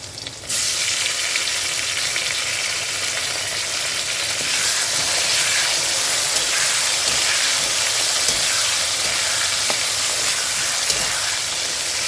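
Tomato hits a pan of fried potatoes and green chillies, setting off a sudden loud, crackling sizzle that holds steady and close for the rest of the stretch, with no voices.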